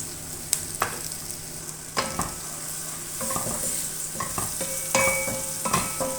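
Ground turmeric, coriander, cumin, red chili and salt fry in a pan under a low sizzle, while a utensil scrapes and knocks against the pan in irregular strokes, close and fairly clear.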